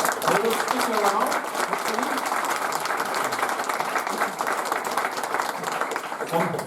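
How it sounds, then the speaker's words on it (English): Audience applause at a tech meetup on microservice architecture, a continuous, fairly loud wash of many hands clapping that holds steady throughout, with some voices mixed in. "give a big round of applause to those guys"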